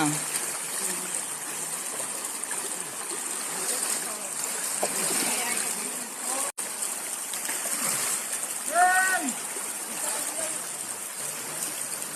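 Water rushes and splashes continuously at Bathini waterfalls, a steady hiss of flowing water with people talking over it.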